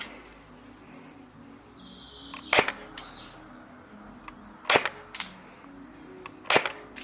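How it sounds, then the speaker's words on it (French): An ARES L85A2 airsoft replica fires during a shooting test: three sharp, loud single shots spaced about two seconds apart, each with a few fainter clicks around it, over a quiet background with no talking. "ce que je vous propose, c'est qu'on va surtout au test chronie, au test de tir"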